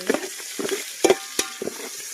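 Chopped onions fry in a pan for chicken pulao and are stirred with a utensil, giving several short, soft scraping strokes over a faint sizzle.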